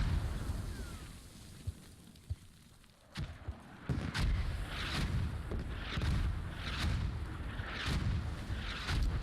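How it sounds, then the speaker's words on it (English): Mortar strikes land one after another in the video game Squad, giving a series of deep, rumbling booms at a steady rhythm over a low background roar, with a few sharp thumps before them. "Very good, accurate mortar strikes."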